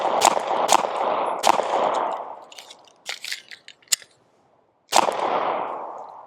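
Glock 19 pistol fired in rapid sharp cracks, three close shots in quick succession, then clattering handling noise of a magazine change, followed by another loud report with a ringing decay.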